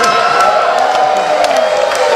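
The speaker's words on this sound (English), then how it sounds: "Keep it clapping." Comedy club crowd on a stand-up tour cheering, whooping and clapping together, a loud continuous wash of voices and applause with scattered shouts throughout.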